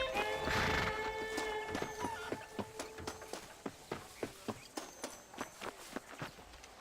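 A horse in the Red Dead Redemption video game whinnies loudly and then walks off with a steady, evenly spaced clip-clop of hooves, the hoofbeats close and clear without any talk.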